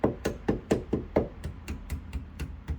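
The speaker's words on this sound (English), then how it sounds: "That's me just pretty much hitting the door." A hammer taps the metal edge of a car door in a steady series of about a dozen sharp knocks, close by, starting firm and gradually getting lighter.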